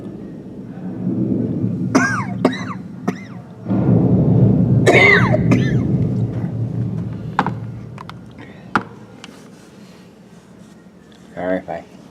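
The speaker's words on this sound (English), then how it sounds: "Sorry if I keep coughing a lot." Several rough coughs and throat-clearing sounds from allergies come in bursts over a low background murmur at a historic site in Yorktown, Virginia, with another short coughing fit near the end.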